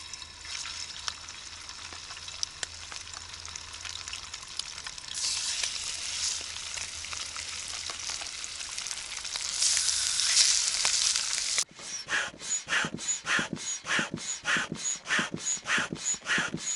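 A hot pan sizzles steadily and loudly, swelling at times, then breaks into rapid rhythmic crackling pulses.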